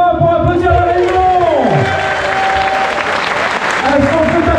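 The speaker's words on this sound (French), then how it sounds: "Est-ce qu'on peut taper des mains pour applaudir la Réunion?" A crowd at a midnight trail race event in Réunion claps and cheers steadily, loud dense applause continuing throughout with a voice and some music-like tones over it.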